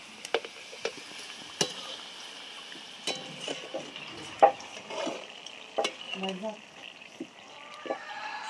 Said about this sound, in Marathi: तेल चांगलं आता गरम झालंय तर तळून घेणार आहे